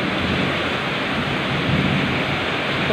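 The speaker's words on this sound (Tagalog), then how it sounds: "Ang lakas ng ulan." Heavy rain pouring in a dense, loud, steady roar, with a low rumble of thunder mixed into the wash.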